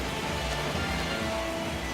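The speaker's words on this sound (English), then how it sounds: "Well, the rain is coming down hard here." Steady heavy rain pouring down over a ballpark during a Boston Red Sox versus Texas playoff game in MLB 17 The Show on PS4, a dense continuous hiss with no breaks or talk.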